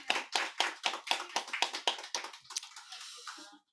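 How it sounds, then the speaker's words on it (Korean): Church congregation clapping together to bless the children during a Sunday worship service: a short run of distinct, fairly close hand claps, loosely rhythmic and growing more scattered before stopping. "자, 우리 아이들 축복하며 함께 박수하겠습니다."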